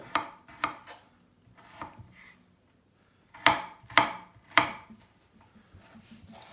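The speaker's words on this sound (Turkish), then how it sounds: "Hemen şöyle tavuğumuzu da doğrayacağız." Knife chops through chicken, thawed from the freezer, on a board in irregular bursts of sharp thuds, a few spaced strikes then a louder cluster of three, close and clear.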